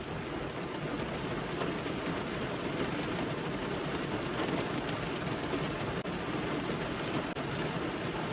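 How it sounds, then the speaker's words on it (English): Heavy rain pours down during a stormy spell under a weather watch, a dense, steady hiss of broadband noise that stays constant throughout with no pauses and no talking. "now all of a sudden it just started raining like a motherfucker"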